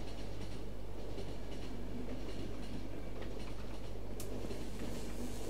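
A train rolls along rails in a video game, a steady loud rumble of wheels and carriage noise with faint rhythmic clacking throughout.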